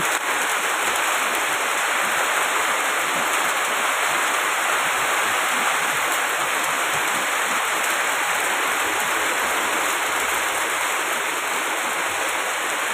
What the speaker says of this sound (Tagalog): pero tinakabaskog sang ulan